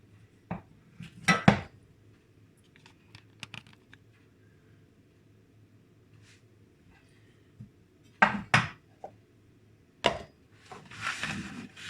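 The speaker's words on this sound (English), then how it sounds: "You chop up the garlic." Knife chopping garlic on a board for a homemade immune-boost juice shot, heard as a few separate bursts of quick close knocks with quiet pauses between them.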